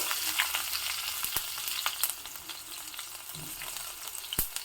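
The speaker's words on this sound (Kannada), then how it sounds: "ನೋಡಿ ಒಗ್ಗರಣೆ ಚಟಪಟ ಅಂತ ಇದೆ" Hot oil spits and crackles steadily as spices temper, with garlic added, sharp irregular pops scattered through a continuous sizzling hiss.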